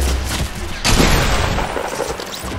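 Shotgun blasts from enemies in the battle royale game Fortnite crash loudly and close, one heavy boom landing amid dense, noisy game ambience with no talk.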